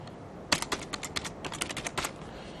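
Quick bursts of keystrokes on a computer keyboard while entering a first name into a form, a run of light clicks starting after a brief pause, fairly close and clear with no voice over them.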